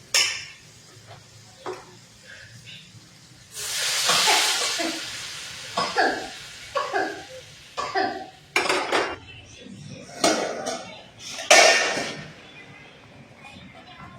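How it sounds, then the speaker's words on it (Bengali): Hot water poured into a frying fish and potato curry (rup chanda fish) bursts into a loud, brief hiss, followed by scattered utensil clatter and intermittent kitchen noises nearby. "এখন গরম জল দিয়ে দিব।"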